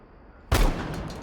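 An FO12 shotgun fires once in Rainbow Six Siege: a sudden loud blast after half a second of quiet hiss, followed by a sustained, ringing tail.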